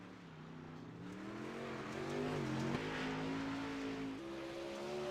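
Big Block race cars running qualifying laps, a rising engine drone that climbs through the gears with shifts and slight pitch drops, heard at moderate distance without talk.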